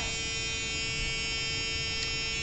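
A Scale Electric FF slot car motor, rated around 18,000 RPM, spins on a dyno with a steady, high-pitched electric whine and buzz, close and continuous throughout.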